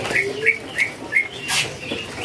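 A white-rumped shama (murai) at a bird shop gives a series of short, clear whistled chirps at a steady rhythm, with a few brief noisy bursts between them.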